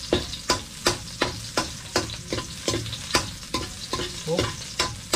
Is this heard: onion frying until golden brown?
yes